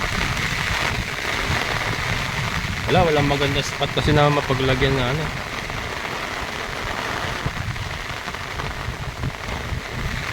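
Heavy rain keeps falling with a constant dense hiss while someone speaks over it and another voice briefly joins, the downpour steady and close throughout.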